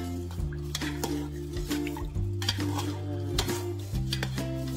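A spoon stirs rice with olive oil and salt in a pot, making soft scraping and clinking strokes, close and fairly steady, over a constant low hum.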